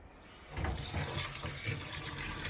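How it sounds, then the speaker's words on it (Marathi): A kitchen tap starts running after a brief quiet moment and keeps flowing steadily into a sink during dishwashing, a close, continuous splashing rush with slight bumps of dishes, and no talking. "लगेचच मी ही भांडे धुवून घेतली"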